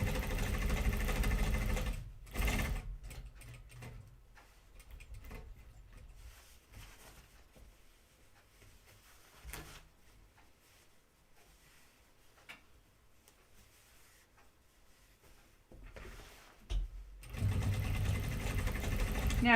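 A sewing machine top stitches stretch denim for a pair of jeans, running in bursts between quiet pauses, the motor's low hum and needle ticking coming and going close by.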